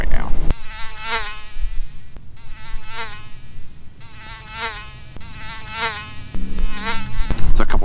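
Flying insects buzz steadily and loudly outdoors in hot weather, a continuous near whine with rising and falling swells, no talk over it.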